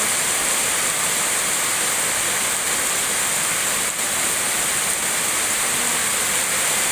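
Rain pours steadily onto a car being washed outdoors, a loud, dense, unbroken hiss of water on metal and ground lasting throughout, with no voices.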